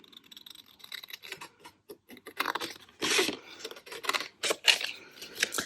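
Scissors snip through card in a quick run of crisp, close cuts, with irregular bursts and short pauses between strokes.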